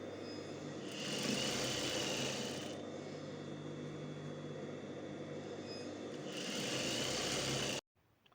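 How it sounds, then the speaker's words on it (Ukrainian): A sewing machine stitches the waistband of trousers in a steady humming whir, rising in two louder bursts and then cutting off abruptly near the end, close and alone without talk. "Прокладаємо другу строчку по лицевій стороні на ширину лапки."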